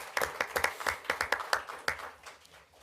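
Scattered hand claps from a small group at a city council meeting, a dozen or so distinct sharp claps in an uneven rhythm that thin out and fade toward the end.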